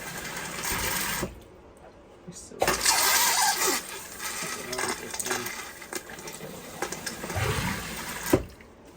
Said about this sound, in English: I push the foot flush.